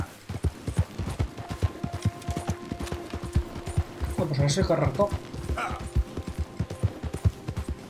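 Horse hooves gallop in the video game Red Dead Redemption II, a steady, rhythmic pounding that runs throughout, with a voice talking briefly in the middle.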